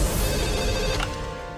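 A telephone rings indoors in a crime thriller scene, a repeated electronic bell tone that is fairly loud and close, then fades slightly toward the end with no talking.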